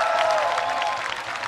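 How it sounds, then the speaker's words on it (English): An audience in the arena at the Hornbill Festival applauds the performers, a dense, steady wash of clapping from a crowd, fairly loud and continuous without talk. "Let's give them a big round of applause to all the performers."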